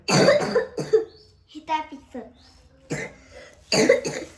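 A sick girl coughs in a few sharp bursts at the start and end, with a voice talking briefly in between, all close up indoors.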